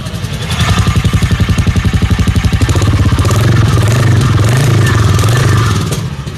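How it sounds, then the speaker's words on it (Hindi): A Royal Enfield motorcycle engine idles loudly up close with a steady, rapid thump-thump beat that rises slightly as the revs lift. "इस डुक डुक साउंड के वजह से ही ये जानी जाती है"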